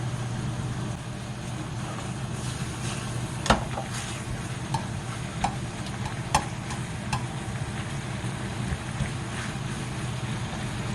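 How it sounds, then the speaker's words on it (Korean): Carrots stir-fry with cooked meat in a pan, a constant sizzling hiss broken by scattered sharp clicks and scrapes of a spatula, close by. "고기가 익었으면 저는 당근부터 넣도록 하겠습니다"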